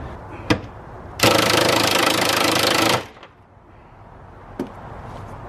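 An impact wrench works on a lower rear suspension bolt during rear-end removal, giving one loud sustained burst of hammering for under two seconds, close up, with brief clunks before and after.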